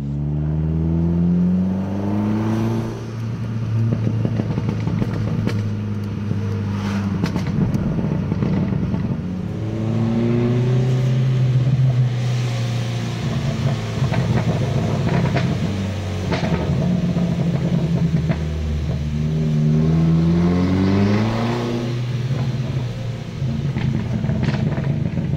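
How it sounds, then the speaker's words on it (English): A BMW 1 Series engine drones and revs steadily while driving, pitch rising and falling with gear changes, with occasional pops and crackles from the exhaust. "my car actually already makes a lot of crackles while driving"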